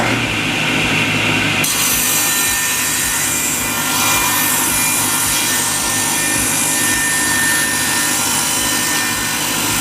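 Wood blocks are cut for a log Adirondack chair, a loud, continuous rasping saw noise running steadily and close for the whole stretch with no talking.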